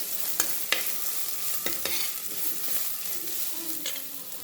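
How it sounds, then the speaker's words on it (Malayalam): Crushed coconut being stirred into fried onions in a pan for an ash gourd thoran, with a spatula scraping and tapping the pan at irregular intervals over a steady, soft sizzle. "നമുക്കൊന്ന് ഇളക്കാം."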